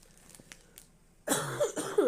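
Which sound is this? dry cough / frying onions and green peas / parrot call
dry cough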